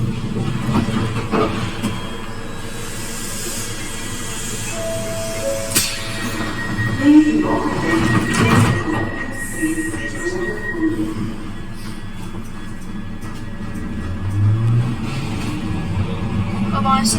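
Glasgow Subway train pulling into Cessnock station, heard from inside the carriage as a steady rumble with wheel squeals and braking tones rising over the noise.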